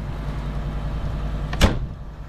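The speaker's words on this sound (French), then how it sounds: "Juste pour fermer la porte." An RV door slammed shut once, a sharp solid thud over the low idling engine hum, close and loud.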